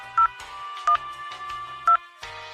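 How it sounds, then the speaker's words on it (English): Three short, loud telephone keypad DTMF beeps spaced about a second apart, punctuating an automated phone system's recorded prompt audio. "Or press 17 plus hashtag on your keypad."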